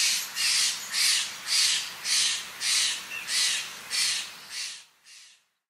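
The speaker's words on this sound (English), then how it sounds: "and then a more scratchy, raspy call." A Steller's jay gives a series of about ten harsh, scratchy, raspy calls in a steady rhythm, each roughly half a second long, loud and close, with the last notes fading away.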